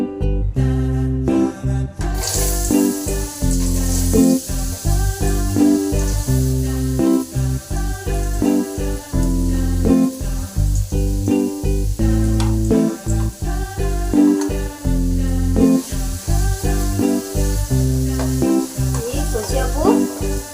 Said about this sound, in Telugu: ఇలా వేయించుకోవాలా, కలర్ సేమ్ అయ్యేంత వరకు వేయించుకోవాలా.